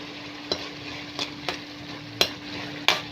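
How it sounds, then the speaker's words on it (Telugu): Onions, snails and ginger garlic paste frying in a pan, with a steady background sizzle broken by several sharp stirring scrapes at irregular intervals. "తర్వాత కొంచెం అల్లం వెల్లుల్లి పేస్ట్ వేసిన తర్వాత కొంచెం ఇట్లా మిక్స్ చేసుకోవాలి."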